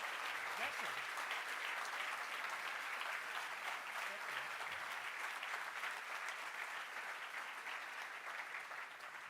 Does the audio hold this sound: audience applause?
yes